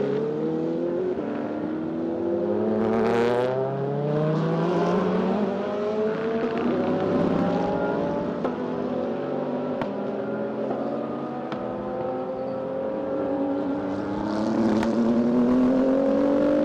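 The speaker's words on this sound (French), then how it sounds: "avec Hugo Chevalier et la Audi numéro 4 qui vient de passer en 4e position devant le team CMR et Rudy Servol" GT race cars from the Endurance Coupe Kenol GT, including an Audi, race around the Magny-Cours circuit, with loud continuous engine roar and overlapping rising and falling pitch sweeps as several cars accelerate and pass close by.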